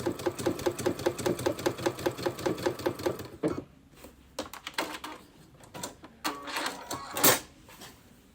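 A Baby Lock Solaris sewing machine stitches a buttonhole in challenging fabric, giving a fast, even run of close mechanical clatter for about three seconds, then stopping and leaving scattered handling clicks and knocks.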